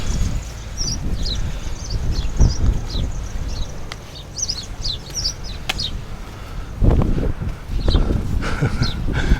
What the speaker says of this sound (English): Sparrows cheeping away.